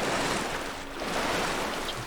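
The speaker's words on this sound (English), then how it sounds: "Paddle me raft round here" A raft being paddled through open sea in the survival game Stranded Deep: a steady wash of surf and rushing water, loud and continuous, with no voices over it.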